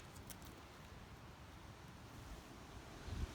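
Steady outdoor wind rumbling and buffeting a microphone, a continuous low roar with a gust swelling near the end.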